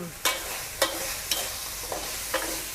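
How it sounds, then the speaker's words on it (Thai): Pea eggplants stir-fried with scraped fish in a hot pan, steady sizzling broken by five sharp, evenly spaced scraping strokes of a spatula. "วิธีการใส่ มะเขือพวง ผัดพร้อมกับปลาแบบนี้นะคะ"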